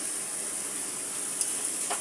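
Spiced curry masala with turmeric fries in a pan, giving a steady soft sizzle and hiss throughout, with a faint stirring scrape near the end and no voices.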